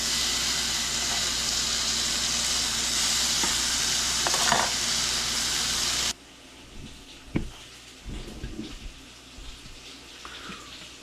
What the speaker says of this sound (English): we're going to start our bacon crisping.